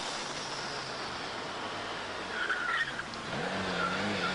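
A car speeding through Stockholm city streets: a sustained engine roar rising in pitch, with a brief tire squeal and skid partway through and no speech.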